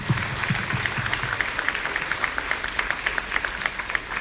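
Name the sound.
audience applause welcoming a guest speaker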